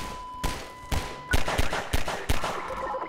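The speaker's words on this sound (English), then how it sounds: "Stop shooting me." Half-Life 2 gunfire hits in a run of about six loud, sharp shots at irregular intervals, each with a short reverberant tail, over a faint steady electronic tone.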